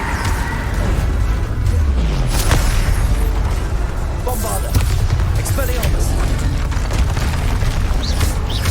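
Explosions from the Bombarda spell in Hogwarts Legacy, a PlayStation game, thud and rumble loudly amid constant heavy battle noise, with repeated sharp bursts and crashes across the whole stretch.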